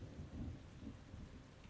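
Rain and thunder in an actual-play podcast scene, a steady low rumbling wash with soft patter running throughout, fairly quiet and with no talking.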